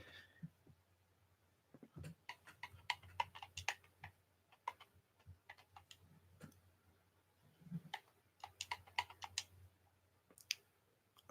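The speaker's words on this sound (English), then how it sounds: "I'm leaning over my computer to type in." Quiet, irregular clicking of a computer keyboard being typed on nearby, the keystrokes coming in short bursts separated by brief pauses, with no talking.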